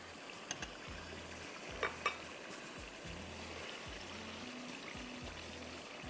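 Blended tomatoes, four of them, poured into a pot of chicken dumpukht biryani base with yogurt: a soft, steady wet pour with a low background hum and a couple of faint clinks of the container partway through.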